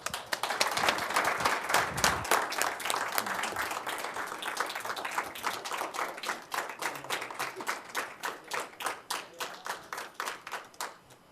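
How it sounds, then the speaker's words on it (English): A round of applause at a city council meeting, dense clapping at first that thins into a slower, rhythmic handful of claps fading toward the end. "join me in a round of applause for our guys"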